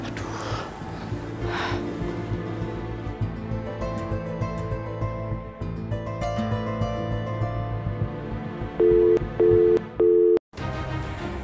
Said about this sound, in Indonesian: Ini handphone Mentari nggak aktif